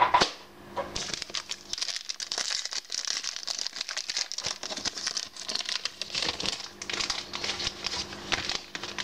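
Crinkly foil wrapper of a Pokémon BREAKpoint trading card pack being torn open and handled up close, with continuous crackling, crumpling and tearing rustles and no voice.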